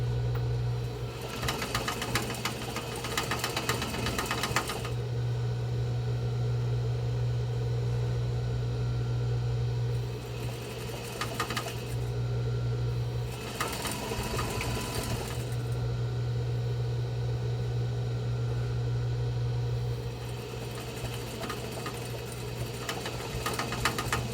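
A sewing machine stitches a box-style fabric face mask in several sustained bursts of steady, fast whirring, separated by brief pauses, close and clear with no talking.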